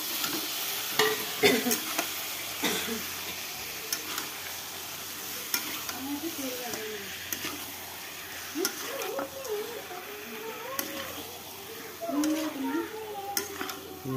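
Marinated mutton fries in spiced oil and is stirred in a pot, a steady sizzle broken by spatula scrapes and clanks against metal, with a voice talking faintly in the background throughout.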